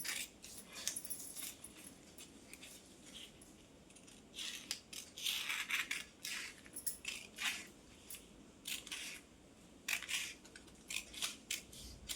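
Scissors cutting paper into a square shape for a paper-cutting design, close crisp snips coming in short bursts with pauses between them.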